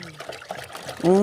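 Water is poured in a short trickle amid quiet background sounds, ending in a brief close splash as a voice begins speaking over it.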